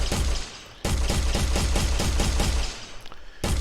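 Rapid automatic gunfire from a first-person shooter game built in Unreal Engine 4, loud sustained bursts of evenly spaced shots with a brief pause before firing resumes.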